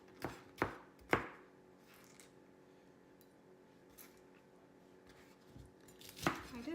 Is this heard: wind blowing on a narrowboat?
no